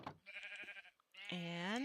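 Two sheep bleats in Minecraft, one short and another drawn out and wavering, each loud and near, separated by a brief pause.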